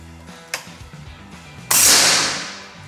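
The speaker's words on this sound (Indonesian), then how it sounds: "Tembakan yang kedua" A single sharp air rifle shot from a GK500 with a Polymax barrel firing a slug pellet, loud and close, with a brief hissing decay; a faint click comes just before it.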